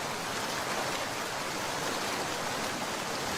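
Cartoon storm rain pours as a steady, even hiss with no breaks or distinct drops, moderately quiet and alone.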